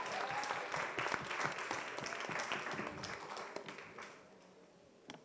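An audience claps in applause for a school trivia team at a Kenyan schools trivia final, a broad, dense patter of many hands that holds steady and then thins out and fades toward the end.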